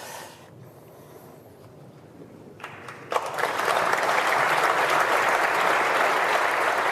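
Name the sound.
National Assembly members applauding a speech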